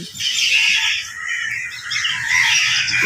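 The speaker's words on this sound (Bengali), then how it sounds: "চলো শোনাই পাখির কলতান" A dense, steady chorus of birds chirps and squawks outdoors in a park in the early morning, filling the air with bright, shrill calls and no talking.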